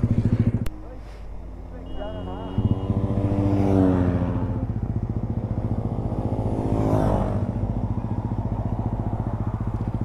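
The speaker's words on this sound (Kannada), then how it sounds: "ಗಾಡಿ ಓಡಿಸ್ತಾ ಇದ್ದಂಗೆ ಅವನು." A motorcycle being ridden sends out a loud, close engine drone that rises in pitch as it revs up. A voice talks briefly over the steady running rumble.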